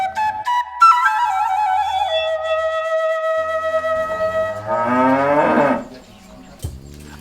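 Dairy cows on a farm moo loudly and close by, with long drawn-out calls that rise and waver before fading.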